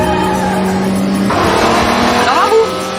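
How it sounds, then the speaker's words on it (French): Car chase in a French comedy film: a loud engine roar with revving and tyre squeals, a sharp skid near the end, dense and close throughout. "une poursuite en voiture"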